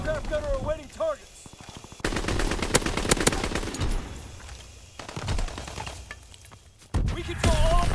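Anti-aircraft guns in a 1944 WWII video game fire in long, rapid bursts that run for several seconds, loud and close, with short pauses and a brief voice at the start.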